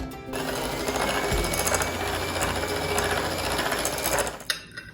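Electric hand mixer whirring steadily at low speed through cream cheese and white chocolate in a larger bowl, a close continuous mechanical drone lasting several seconds before it cuts off, with no talking.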